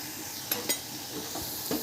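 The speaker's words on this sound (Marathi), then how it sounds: "कढीपत्ता आता हे थोडंसं परतून घेऊया बघा आता आपला कांदा होतच आला चांगला" Onion and curry leaves are stirred in a pan for a bread-crumb chivda, a quiet, low hiss broken by a few light scrapes and clinks.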